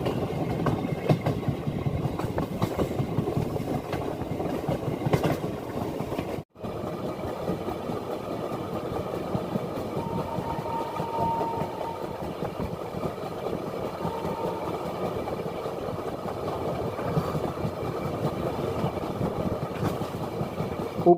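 A train on the Rajkot to Delhi Sarai Rohilla route runs along the tracks near Delhi, passing beneath a metro line, with a continuous heavy rumble and rhythmic rail clatter lasting throughout.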